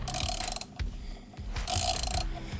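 A ratchet clicks in short bursts while two front bolts of an aftermarket skid plate are snugged up, close and fairly loud, with pauses between runs of rapid clicking.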